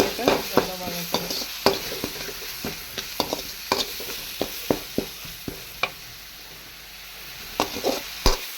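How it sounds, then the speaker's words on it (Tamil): Ginger garlic paste sautés in hot oil as the base for a chicken gravy, a continuous near sizzle punctuated by irregular spatula knocks and scrapes against the pan, with no talking. "நல்லா பச்சை வாசனை போகிற அளவுக்கு நம்ம ஃபுல்லாக வதக்கலாம்"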